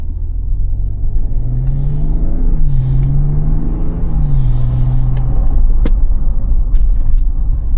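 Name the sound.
BMW G30 540i with MAD intake, engine gear changes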